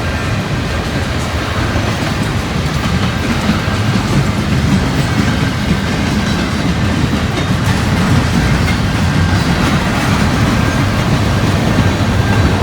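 Freight cars of a train roll steadily past close by in Georgia after the locomotive has already gone, a loud continuous rumble with rhythmic wheel clatter and no voices.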